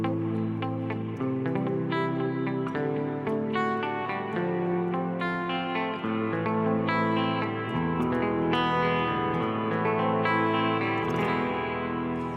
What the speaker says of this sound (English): it's a little too much reverb.